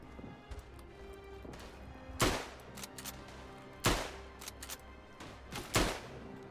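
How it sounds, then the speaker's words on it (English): Gunfire in the WWI shooter game Tannenberg: three loud, sharp shots spaced a couple of seconds apart ring out over a low, busy battlefield background. "I cannot believe it took 3 shots to kill him."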